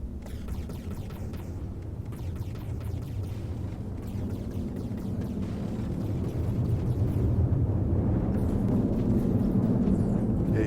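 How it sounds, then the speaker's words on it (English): A cannon barrage in a video game rolls on as a sustained, heavy low rumble of overlapping explosions that swells slightly toward the end. "See if it's taking any punishment from this cannon barrage."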